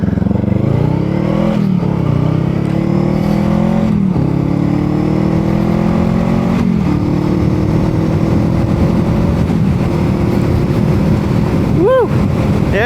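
Heavy wind buffeting roars across the microphone while riding a 2023 Honda Rebel 500 motorcycle, over the engine's rising and falling drone as it shifts through gears, loud and constant throughout.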